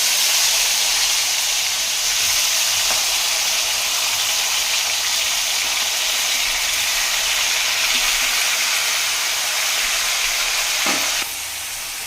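Chicken leg pieces fry in hot oil for chilli chicken, a loud dense sizzling hiss that runs continuously up close before dropping off near the end, with no voices.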